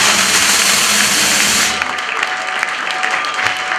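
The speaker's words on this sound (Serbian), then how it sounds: "veliki aplauz za veoma" Applause from an audience at a company's 15th anniversary celebration, dense and loud clapping that thins out partway through into scattered claps.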